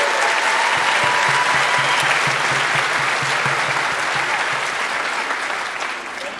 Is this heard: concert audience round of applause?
yes